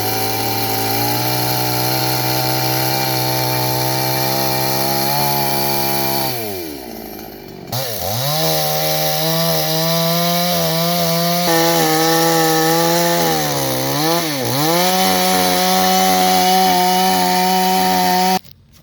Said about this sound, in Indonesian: Langkah keempat adalah melakukan pemotongan.